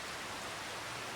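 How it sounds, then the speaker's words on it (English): Steady rain in the farming video game Farming Simulator 25, a dense even hiss that fills the brief moment with no pauses. "It's started raining, but that's fine."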